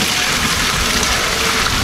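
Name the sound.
hot water being poured into a mash for brewing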